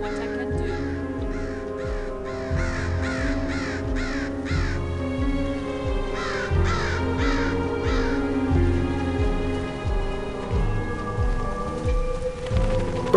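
Birds caw repeatedly in the video game The Da Vinci Code, clustered rhythmic calls in two bursts over a steady rain-like ambience and low background tones.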